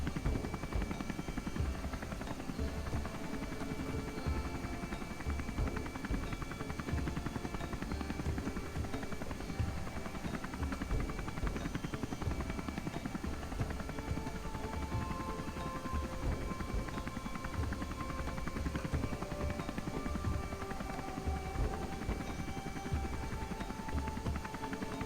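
Helicopter flying in Kerbal Space Program, a steady buzzing rotor and engine drone that runs continuously at even loudness, with faint tonal whines drifting over it.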